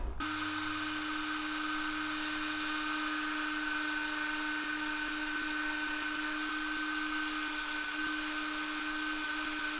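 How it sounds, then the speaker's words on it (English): A tiny Dremel bit cuts a lip slot into a handmade crankbait lure: a steady, high-pitched rotary whine holds an even tone for the whole stretch, close and continuous, with no talking. "I got this minuscule Dremel bit right here for this thickness of lip."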